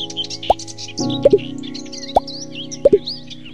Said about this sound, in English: often including natural sounds like wind blowing and birds chirping